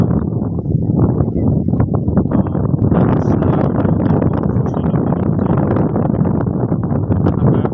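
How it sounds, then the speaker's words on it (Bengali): Strong coastal wind roars and buffets continuously in winter, loud and close, a constant rumbling gust with no pauses. "আর প্রচন্ড বাতাস, সমুদ্র উপকূলের অঞ্চল।"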